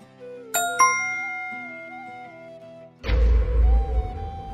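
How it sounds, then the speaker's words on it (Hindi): A phone chimes with a message notification, two quick bright dings close together over a quiet room tone, followed a few seconds later by a louder burst of rustling, thumping noise. "अनन्या का मैसेज"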